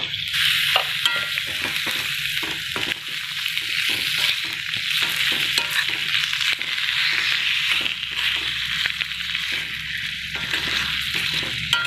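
Chicken pieces fry in a pan with a dense, steady sizzle, while a spoon scrapes and stirs them in a quick, regular rhythm close to the microphone. No voices are heard.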